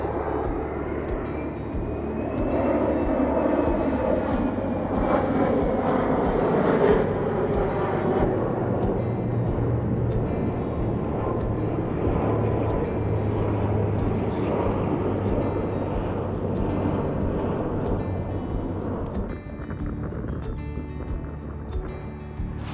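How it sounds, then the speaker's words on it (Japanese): A low-circling airplane passes overhead at the Onojo AEON rooftop near Fukuoka Airport, a loud, sustained jet roar that swells and slowly fades over about twenty seconds. "この大野城イオンは本当にちょうど旋回する飛行機が真上を横切るっていう感じですね。"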